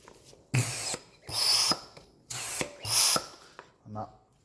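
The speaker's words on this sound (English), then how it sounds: "And that pumps fluid." A hand-operated piston pump with Viton seals pumping fluid such as oil, giving four rhythmic broadband strokes of squirting, hissing flow with mechanical clicks between them, close and fairly loud with no talk.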